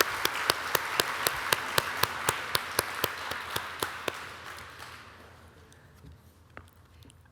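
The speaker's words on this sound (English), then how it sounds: "Can we just give everybody a round of applause?" An audience applauds at a live community block party; a brisk, steady patter of claps sounds over a wash of crowd noise, then thins out and fades to sparse scattered claps.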